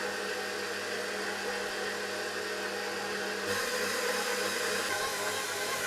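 A stand mixer kneading bread dough for kaiser rolls, a steady motor hum with a low churning rumble that shifts slightly in tone partway through, no voices.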